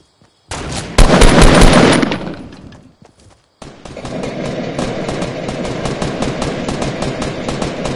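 Gunfire in a PS4 shooter video game, a loud roaring burst of shots, a brief drop to near silence, then a long stretch of rapid automatic fire, close and dense, with no talking.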